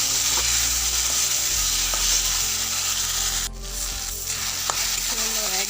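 Tomato frying in a pan for egg curry, a steady loud sizzle with occasional scrapes of a spoon stirring, continuous throughout with no voices.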